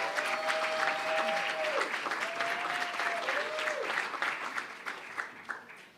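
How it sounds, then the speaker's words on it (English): Applause for the planning committee at an evening honoring event, a full steady clapping from the crowd with a whistled tone rising over it, gradually tapering into scattered claps. "Please, big round of applause for everyone."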